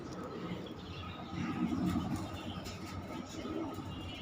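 Pigeons and doves of various foreign breeds coo softly from their nests in a loft. The low, murmuring calls sit faint under a steady background hum.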